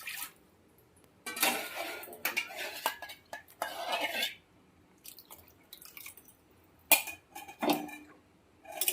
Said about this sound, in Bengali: যে বাটিতে ডাল সেদ্ধ করেছিলাম ওই বাটিটা ধুয়ে একটু জল দিয়ে দেবো